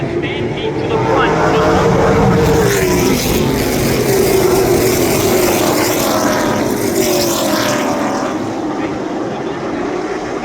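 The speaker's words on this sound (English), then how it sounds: "These racing machines have taken the stampede to the front." Dirt-track race cars at Tri-County Speedway, heard as a loud, continuous roar of several engines with shifting pitch as the pack passes, a dense, steady wall of engine noise throughout.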